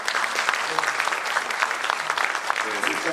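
An audience applauds at the 8th Elder Abuse Prevention Day ceremony in Daegu: a dense, steady wash of many hands clapping that holds evenly throughout, with no voices standing out.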